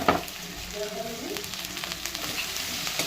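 Okra fries in a hot pan on full flame while being stir-fried, giving a close, steady sizzle and crackle with light scraping of the spatula throughout.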